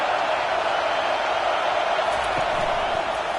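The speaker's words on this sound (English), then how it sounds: "Decibels rising as the crowd gets behind this defense on third down." Football stadium crowd roars in a loud, steady wall of cheering as the defense lines up on third down, sustained without letup.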